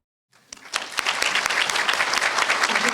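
An audience at a chamber of commerce annual meeting and awards event bursts into applause after a brief silence, building quickly into a full, sustained round of clapping from a large crowd.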